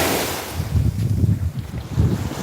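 Sea surf on a beach washing over a map of Bangladesh drawn in the sand, a loud close rush of water with wind buffeting the microphone, swelling and receding in two surges.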